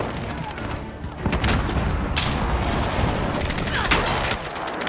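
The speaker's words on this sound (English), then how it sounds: "friendly precision airstrike inbound" Precision airstrike explosions in a Call of Duty: Modern Warfare match, a dense, loud stretch of rumbling booms and crackling gunfire layered together, with sustained low roar and overlapping blasts throughout.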